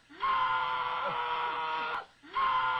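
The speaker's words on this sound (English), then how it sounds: "I do use a Sam Kinison scream." A long, raw scream by comedian Sam Kinison, played from a recording, holds strongly for about two seconds, breaks off, then starts again, heard alone.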